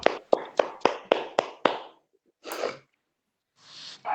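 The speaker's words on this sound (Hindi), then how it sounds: "बढ़िया ताली वादन हो जाए शैली जी के लिए" Applause for Shaily ji after a yoga session: about seven sharp, evenly spaced hand claps in quick succession, close and clear, followed by a couple of soft breathy noises.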